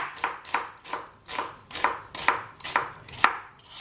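Onions being finely chopped with a knife on a board for corned beef hash, eight evenly spaced crisp chops, close and clear, with no talking.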